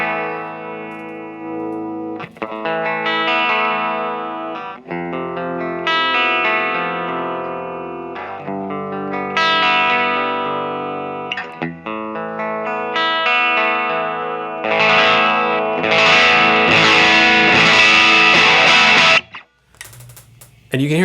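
Electric guitar played through a Voltic boutique fuzz pedal set for a low-gain, edge-of-breakup tone, chords and single notes ringing loud and close with a brief hard cutoff near the end.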